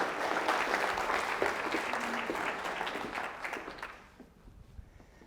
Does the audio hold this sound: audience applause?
yes